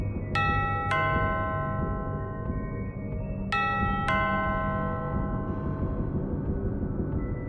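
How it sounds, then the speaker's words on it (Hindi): A two-tone doorbell chime rings twice, each ding-dong clear and ringing out over a low background hum. "कानों में डोरबेल की आवाज"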